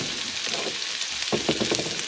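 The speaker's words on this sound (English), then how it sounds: "I have my temperature set pretty well, so that butter is not going to burn. These onions will sweat pretty well," Onions cooking in butter in a pan, giving a soft continuous sizzle with light crackles that grow a bit busier toward the end.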